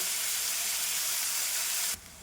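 Onions frying with a pinch of salt for an Andhra-style broad bean and tomato curry give a steady, close, bright sizzle that stays even for about two seconds, then drops abruptly to a softer hiss.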